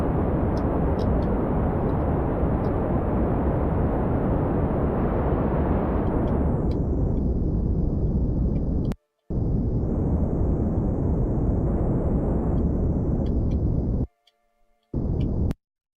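Spacecraft making a rough landing in Kerbal Space Program, a loud continuous roaring rush that shifts in tone and cuts out abruptly twice, leaving brief silences before resuming.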